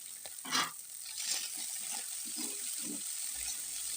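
Cubed potatoes and drumstick flowers fry over low heat in a pan, giving a soft, steady sizzle with light stirring scrapes and a brief louder burst near the start.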